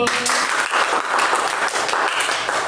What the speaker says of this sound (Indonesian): Beri aplaus yang meriah untuk kelompok Kagumi